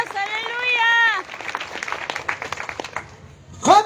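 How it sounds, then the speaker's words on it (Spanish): Church congregation at a Quechua-language service clapping loudly in praise, a dense patter of hand claps running for a few seconds with sung or spoken voices over the start and end. "Ofréndale palmas fuerte al Señor"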